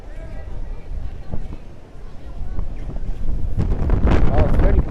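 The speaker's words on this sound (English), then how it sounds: "it's very breezy today here in Dublin" Breezy wind buffets a microphone outdoors on a Dublin street, a steady low rumble that swells stronger in the last second, with faint talk and street noise underneath.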